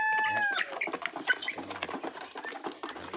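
A Brahma hen clucking among other farm chickens, with soft repeated clucks and patter over a busy, continuous background of fowl noise at moderate distance.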